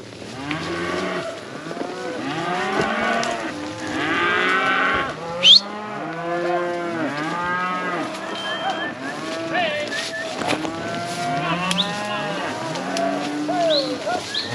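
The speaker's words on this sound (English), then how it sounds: "Come on, cows." Cattle on a long drive through hill country low and moo repeatedly, many overlapping calls near and far in a steady chorus, with a voice calling to the herd at moments.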